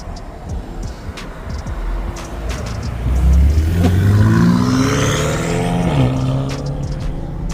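A BMW M5 fitted with a downpipe revs hard nearby, its loud engine note rising and swelling through the middle of the clip before easing off, with steady road noise underneath.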